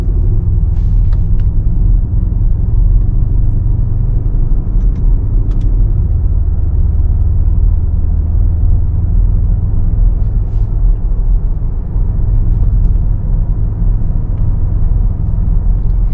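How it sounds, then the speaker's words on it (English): A 2017 Mercedes GLS63 AMG SUV with its twin-turbo V8 held at full throttle in sport plus mode, a loud, deep continuous engine rumble heard from inside the cabin for sustained seconds, with faint occasional clicks. "So as you can see, the car's like waking up. It's like, wow, it's full throttle right now."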